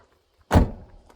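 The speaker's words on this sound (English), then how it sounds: "It's the way the doors close, and it's the clunkiness." A Toyota Tacoma pickup truck door slams shut with a single loud, heavy clunk, close by, followed by a short decaying rattle and near silence.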